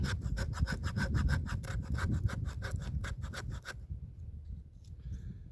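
A Bushwhacker bushcraft and survival knife scrapes fine shavings from wood in a quick run of rhythmic, raspy strokes for about four seconds, then stops, leaving near silence.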